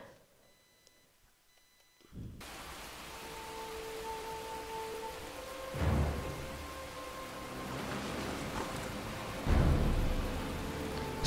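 Steady rainstorm in the video game Heavy Rain, a constant wash of falling rain with occasional louder rumbles and faint tonal beeps, heard without talk.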